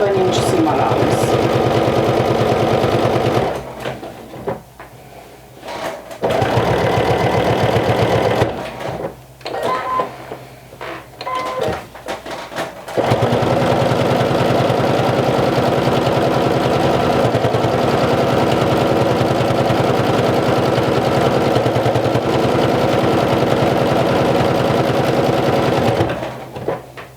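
A sewing machine sews around a piece of a vintage jumper with a fast, loud, steady rattle. It runs in long stretches, broken by brief pauses and short stop-start bursts with faint handling noise.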